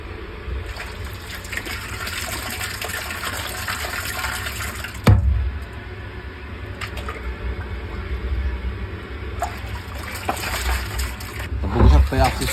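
Pressurised water mixed with fertilizer gushes out for drenching tomato plants, a steady rushing flow close by with a couple of brief louder splashes; a voice talks over it.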